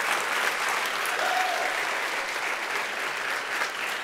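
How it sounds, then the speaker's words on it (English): Steady applause from a masterclass audience for a music producer, a continuous even wash of many hands clapping at moderate distance with no break. "Let's give a big round of applause to Mr."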